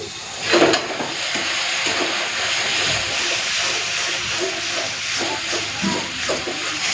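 Ground cumin, coriander and Kashmiri red chilli powder sizzle steadily in a hot pan after a little water is added, with a loud hiss and burst of steam near the start, then continuous close frying.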